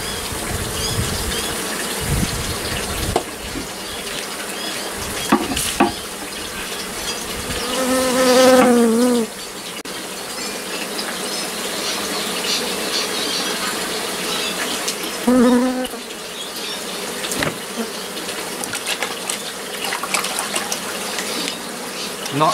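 Honey bees swarming during a possum box hive cutout, a dense continuous buzzing drone close by with occasional louder rising buzzes from individual bees passing near.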